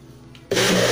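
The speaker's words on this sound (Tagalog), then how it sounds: "ating pong munang i-blender ito ha." A blender suddenly switches on after a quiet moment and runs with a loud, steady whirring roar to the end.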